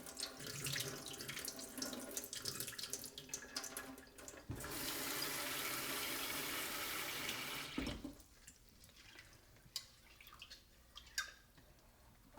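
Tap water runs steadily into a sink while dal lentils are washed, with splashing and swishing of grains in a bowl, a sustained gush in the middle and lighter dribbles and clinks around it.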